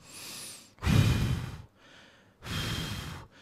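Close breathing into a Fifine K658 USB dynamic microphone set sideways: a few airy inhales and exhales, loud and near, separated by short quiet gaps.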